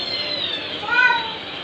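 A rescue cat meows close by in a shelter setting, one drawn-out, wavering cry that rises in the middle over faint background noise.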